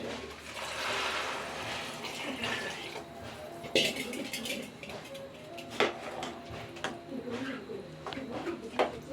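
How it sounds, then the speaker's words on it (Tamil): Water poured into a pot of soaked rice for a vegetable and sprouted peas biryani, a steady splashing pour with a few clinks of the pot, heard close up without talk. "இப்போ தேவையான அளவு தண்ணி"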